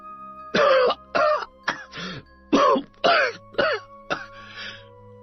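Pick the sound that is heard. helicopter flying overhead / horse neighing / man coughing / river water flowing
man coughing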